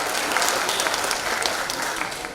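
Audience applauding at a felicitation gathering, a steady burst of many hands clapping together, moderately distant and even, tailing off slightly at the end.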